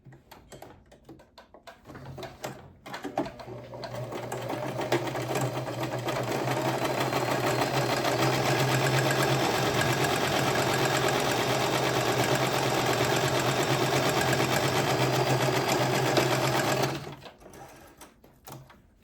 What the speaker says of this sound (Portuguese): Deixa eu passar uma costura